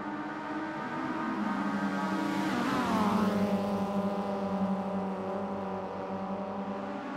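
A Mitsubishi Evo X race car at speed on a circuit, its engine drone climbing and sweeping past with a Doppler drop in pitch before settling into a steady roar.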